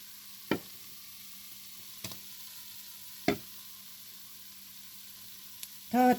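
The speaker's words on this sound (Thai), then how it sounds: "ที่เหลือก็เอาลงไปทอดอีกค่ะ" Fish battered in flour frying in hot oil for crispy fried fish, a steady close sizzling hiss broken by a few sharp pops and crackles, with no talking.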